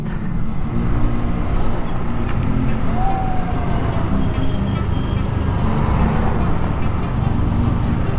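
Steady road traffic on a national highway in the Philippines, heard from a motorbike, with a continuous loud rumble of cars, buses and trucks moving close by and no clear speech.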